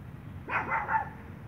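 A single short dog bark, fairly close, with a little yelping edge, standing alone against a quiet background.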